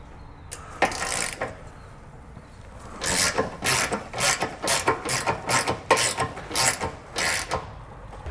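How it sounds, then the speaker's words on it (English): A 14 mm socket ratchet works bolts loose on the bumper beam of a 2023 Subaru Outback wagon, giving bursts of rapid clicking with a pause, then a steady run of rhythmic close ratcheting strokes. "we can use a 14 millimeter socket to remove the two bolts on either side"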